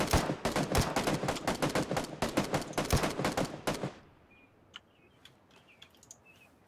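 Rapid automatic gunfire in PUBG, a loud string of sharp shots and short bursts that stops abruptly, leaving a quiet outdoor stretch with faint birdsong and a few distant pops.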